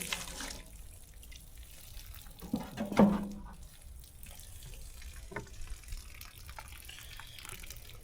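Tap water runs softly as a drum fish fillet is rinsed, a faint steady splash with a brief louder gush near the middle and a few small knocks.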